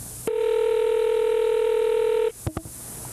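A telephone dialing out: a steady dial-type tone holds for about two seconds, then a few short keypad beeps follow, close and clear with no talking.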